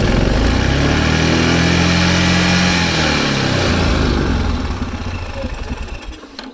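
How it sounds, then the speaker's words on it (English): Yamaha Kodiak/Grizzly 400/450 quad ATV engine running loud and steady near the mic, its pitch sliding and wavering as it fails to rev all the way up from a sticky choke, then easing slightly lower toward the end. "If I start it up now, it's got the fuel valve on. Might need a little bit of choke. So it starts up fine."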